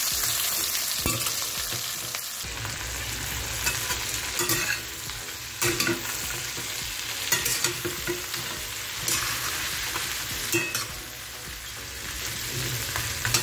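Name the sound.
prawns frying in a pan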